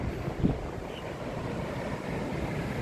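Wind and waves at the beach at Suan Son Pradiphat in Hua Hin, heard as a steady, fairly quiet broadband rush with no talk.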